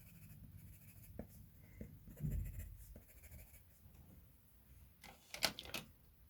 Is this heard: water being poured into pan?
no